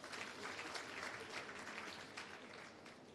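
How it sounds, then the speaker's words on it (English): Audience applause at the launch of a skills development centre, a steady patter of clapping from a crowd throughout, fairly faint and distant-sounding, with no talking over it. "I think that deserves a hand of applause."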